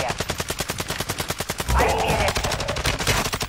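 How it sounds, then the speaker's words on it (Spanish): Rapid, loud, automatic gunfire in the video game Warzone 2 rattles in a steady burst, thickening mid-clip as more weapons join. "Son tiros, son tiros"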